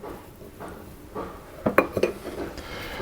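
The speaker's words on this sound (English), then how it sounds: "I'm going to toss the blueberries in the flour like that" Blueberries are tossed in flour in a mixing bowl, with a quiet shuffle followed by a few sharp clinks of a utensil against the bowl.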